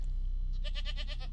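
A goat in the video game Below, Rusted Gods gives one loud, close, quavering bleat that pulses rapidly, over a steady low background drone.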